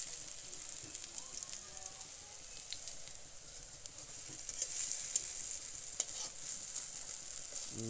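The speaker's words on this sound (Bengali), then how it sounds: "ওই পিঠটাও ভালো করে ফ্রাই হয়ে যায়, সেই জন্য খুন্তি দিয়ে উল্টে দিলাম" Lentil fritters (dal bora) fry in a pan of hot oil with a steady, bright hiss and crackle throughout, swelling slightly midway.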